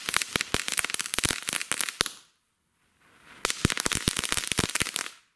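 Funke Meteoriten Kaliber A firework shells bursting in rapid crackling volleys, a dense run of sharp pops that stops for about a second of near silence, then resumes just as loud.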